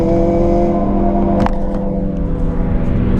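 A big-turbo BMW 135i roars loudly and close as it pulls through the gears, a deep steady engine drone with a brief change in tone midway.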